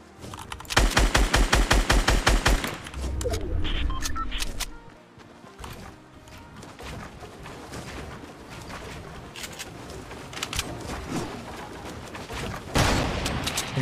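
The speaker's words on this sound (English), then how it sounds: "He's just sniping bushes." Gunfire in the Fortnite battle royale video game: a loud rapid burst of shots at the start, followed by scattered single shots and game effects at varying distances over a busy background.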